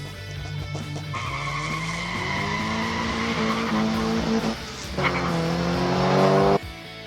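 A Hot Wheels 1969 Oldsmobile Cutlass 1/64 diecast car runs down a time-trial track in lane 1, giving a continuous rolling whir with rising and falling tones for about seven seconds before stopping abruptly.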